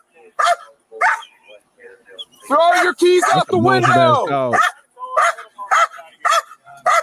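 A dog shut inside a car barks in short repeated bursts with whining yelps, close and loud, while people shout over it from nearby.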